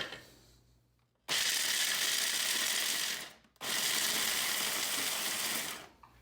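Almonds being ground for vanilla almond cookies in a small electric grinder, two loud bursts of harsh whirring and crunching separated by a brief pause, with a faint mechanical hum before the first.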